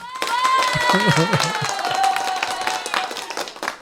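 Studio audience clapping and cheering for a musician introduced on a live talk show, a lively burst of applause mixed with whoops and a voice talking over it.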